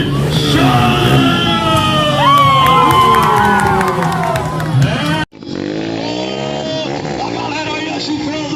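A crowd at a motorcycle wheelie show in Fortaleza cheers, yells and whoops loudly and continuously, with many voices shouting together; the sound cuts abruptly partway and resumes as thinner cheering.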